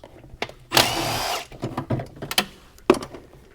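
A power tool, likely a drill or driver, removes a 10mm bolt from the thermostat housing of a 2012-2017 Jeep Wrangler 3.6L, a short whirring burst up close followed by clanks and tool handling.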